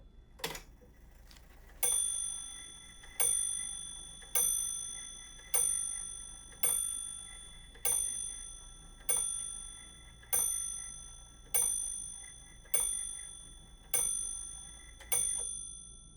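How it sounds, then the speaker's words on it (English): Antique 1768 clock bell tolling midnight, a series of about twelve evenly spaced, ringing metallic strikes, each decaying slowly over a low steady hum, close and clear with no voices. "whenever I hear the bell toll, that's the exact sound they would have heard in 1768"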